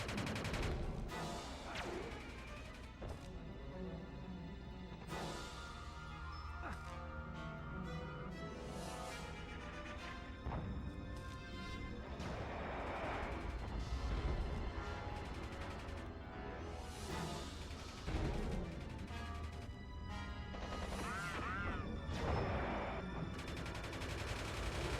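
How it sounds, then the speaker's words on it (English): Sustained heavy gunfire in the video game Superman: Shadow of Apokolips rattles nonstop, with bursts of rapid shots and booming blasts layered into a dense, loud barrage. "Don't worry about all the gunfire happening outside."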